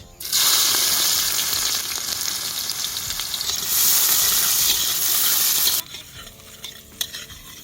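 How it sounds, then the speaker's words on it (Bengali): Chopped onions fry in a pan tempered with cardamom and cinnamon, a loud continuous sizzle with stirring that drops sharply near the end, leaving quieter clinks; no talking. "এবার আমি দিয়ে দেবো কুচিয়ে রাখা পেঁয়াজ"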